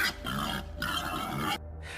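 A wild boar grunts, loud and close, in a dense low rasping sound over a steady hum, broken by short pauses and a sudden cut near the end.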